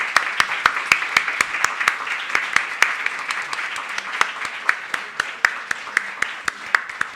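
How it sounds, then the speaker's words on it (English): A round of applause from an audience, many hands clapping steadily with sharp individual claps standing out, tapering slightly toward the end. "one round of applause"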